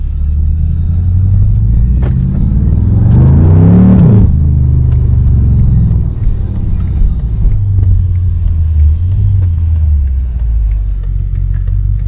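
Straight-piped BMW exhaust cruising through downtown streets on a Saturday night, a steady deep rumble with a brief louder surge of revving around the middle before settling back into a low drone.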